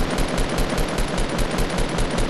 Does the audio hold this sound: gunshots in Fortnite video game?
yes